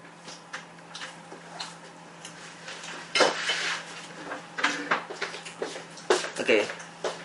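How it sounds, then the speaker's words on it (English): A utensil spreads a mixture evenly over potatoes in a pan for arroz con garbanzos, making soft intermittent scrapes and light clinks against the cookware that grow busier toward the end. "I'm gonna spread it evenly across these potatoes."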